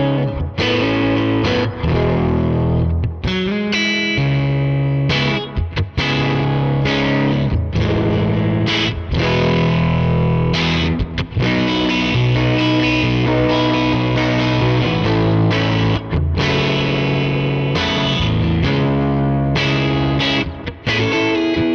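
An electric guitar played through a Line 6 Helix with the mid-range cut by EQ gives a loud, distorted, continuous tone with ringing chords and brief pauses, close and with no talk.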